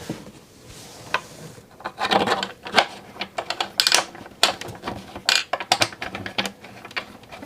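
Small screws being turned by hand into the holes of a full carbon KLOS guitar neck, giving irregular clicky ratcheting and tapping bursts up close with no talking.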